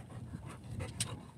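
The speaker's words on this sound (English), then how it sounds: "Why are you breathing in my face like that? I don't want your dog breath." A dog breathes close up on a boat at sunset, with quick, soft huffs and faint panting bursts, one brief sharper breath near the middle, all fairly quiet and without talk.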